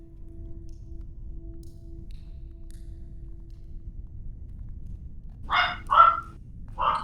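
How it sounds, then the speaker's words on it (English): A dog barks a few rooms away indoors, three short muffled barks near the end over a steady low hum, distant and fairly faint. "Can you all hear the dog?"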